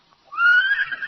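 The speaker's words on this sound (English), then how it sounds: "with a whinny of triumph, Victor came to Dan's side" A single loud horse whinny, close and bright, rising and holding for under a second after brief quiet.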